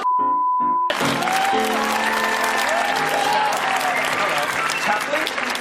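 An audience applauds loudly and continuously for two audience members at an improv comedy show, after a short spoken introduction at the start.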